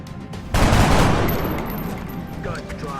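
A sudden loud burst of gunfire erupts in a tactical shooter game, a heavy blast that decays into a rumbling tail with faint scattered shots afterward.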